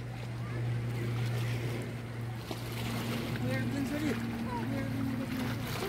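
Boats out on the lake at Bulbule in Surkhet give a steady, low motor drone with water washing and wind noise, a few faint higher chirps rising over it partway through.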